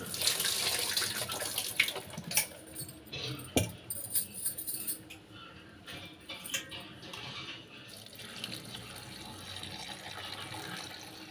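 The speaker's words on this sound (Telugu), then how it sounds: "నీళ్లు పోసి కడిగేసుకొని తర్వాత మళ్ళీ నీళ్లు పోసుకొని" Tap water runs and splashes over cut broad bean pieces being washed in a kitchen, a steady near stream with uneven bursts and drips as the pieces are rinsed; no voices.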